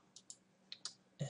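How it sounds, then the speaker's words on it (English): Computer mouse clicks in a 3ds Max 2015 session, a few sharp, faint, close clicks spaced irregularly, ending with a slightly fuller thump. "by right clicking the layer and properties"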